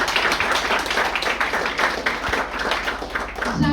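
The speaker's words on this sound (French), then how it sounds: "On l'applaudit maintenant." Applause from a school audience honouring a student team at a scoring ceremony, dense and steady clapping with a slightly uneven rhythm throughout, fairly close and loud.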